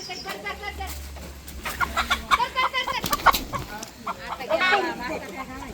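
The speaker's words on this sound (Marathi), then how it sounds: "अशा प्रकारे पहा कोंबडा तर पकडलेला आहे." A rooster clucks and squawks in agitated bursts while being caught in a village yard ahead of a big mutton cooking event, close and loud, with people talking over and between the calls.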